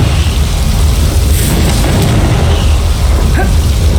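A Confringo blasting spell detonates in Hogwarts Legacy, a loud, dense, rumbling boom with heavy low-end roar sustained throughout, close and overpowering, with no speech.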